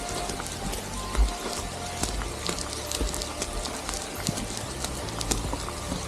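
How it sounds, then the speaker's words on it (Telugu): Steady rain patters on surfaces all around, a dense hiss with scattered sharp drops and occasional low knocks, continuous and fairly near. "వర్షంలో మళ్ళీ ఇరుక్కున్నా, మళ్ళీ రిటర్న్ అయిపోతున్నా."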